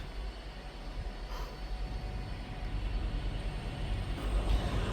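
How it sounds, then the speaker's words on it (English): Class 158 diesel unit 158 892 pulling away toward Nottingham, a low rumbling engine and wheel noise that swells gradually, with a faint high squeal partway through, no voices. "158 892 on the rear, bound for Nottingham, and then that goes off in the distance towards Nottingham."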